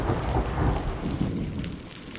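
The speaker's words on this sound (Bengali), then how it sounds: "হঠাৎ করে একটা বাজ খুব জোরে পড়ল" A loud thunderclap booms through a stormy night, a deep rolling rumble over steady heavy rain that then fades into a lighter patter.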